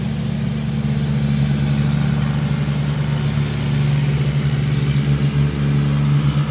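A rice planting machine's engine runs in a paddy field in Mindanao, Philippines, a loud, steady mid-pitched drone with a low throbbing rumble and no changes in speed.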